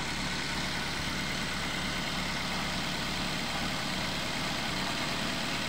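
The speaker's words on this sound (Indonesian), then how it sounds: "Itu mesinnya sudah hidup. Kita coba cek ke mesin." Toyota Avanza engine idling steadily, a continuous low rumble with a faint, slightly rough undertone, close and alone without talk.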